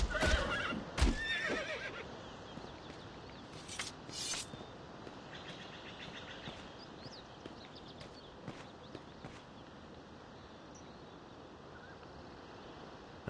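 A horse in the video game The Bard's Tale whinnies near the start amid clip-clopping hooves, followed by sparse hoof knocks and faint bird chirps over a quiet outdoor ambience.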